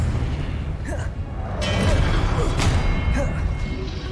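A spell cast in the Hogwarts Legacy video game: a sustained magical whoosh with crackling bursts and a dull boom rising midway, loud and close over a rumbling low bed of game effects.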